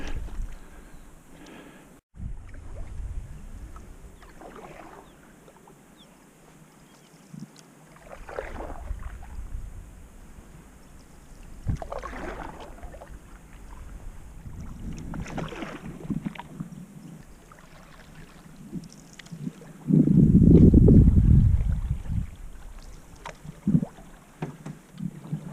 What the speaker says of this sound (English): Just deep enough to get a good paddle stroke in here.